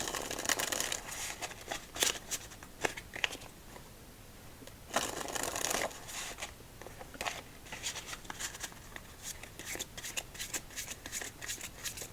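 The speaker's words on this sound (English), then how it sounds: "really good deck to shuffle cards with, too." Playing cards are shuffled repeatedly up close: crisp riffling bursts and flicks, with longer cascades around the middle, alone without talk.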